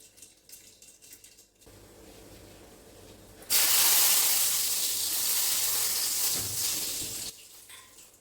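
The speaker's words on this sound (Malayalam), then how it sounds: "ഇനി കടുക് ഒന്ന് പൊട്ടി വരട്ടെ" Mustard seeds splutter in hot oil with a sudden loud sizzling hiss that lasts several seconds before cutting back to quiet kitchen noise.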